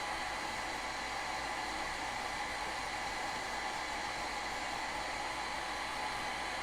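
A hair blow dryer runs steadily with a constant whooshing roar, loud and close, unchanging throughout with no voices.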